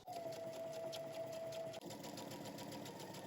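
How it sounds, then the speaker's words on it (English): A sewing machine stitches close to a folded fabric edge, running steadily with a fast, even whirring stitch and a brief pause near the middle, close and alone without speech. "we're going to head to the sewing machine and we're going to stitch close to the folded edge"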